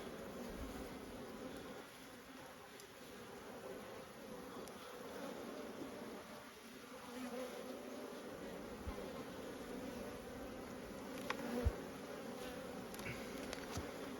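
Honeybees buzz steadily inside an open hive, a soft continuous drone with a few brief knocks near the end and no talking.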